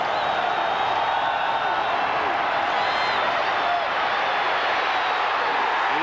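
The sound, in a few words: stadium crowd cheering at Auburn vs Ole Miss football game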